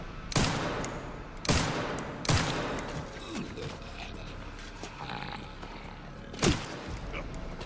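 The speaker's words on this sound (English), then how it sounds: "So I'm burning a lot of bullets to take these guys out." Gunfire from the survival horror game Resident Evil Requiem: a few loud, widely spaced shots ring out amid an ambient game soundscape, with one more heavy shot near the end.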